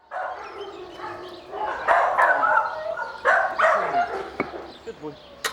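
Several dogs in a kennel run give short barks and yips, loud and close, in uneven bursts with brief gaps between them.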